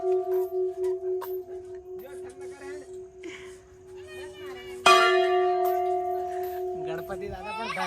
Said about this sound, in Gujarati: અહીંયા આગળ બહુ મોટો એક ઘંટ મૂકવામાં આવ્યો છે